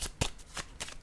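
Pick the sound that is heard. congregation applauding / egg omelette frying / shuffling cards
shuffling cards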